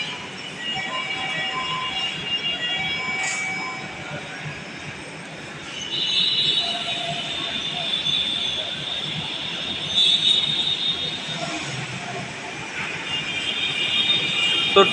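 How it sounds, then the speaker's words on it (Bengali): Metro train at a station platform, with a continuous rumble of rolling stock and faint wheel squeal as the doors shut and it pulls away, fairly loud and steady with occasional louder swells. "এখন আমরা দেখব ট্রেনের দরজাগুলো কিভাবে বন্ধ হয়।"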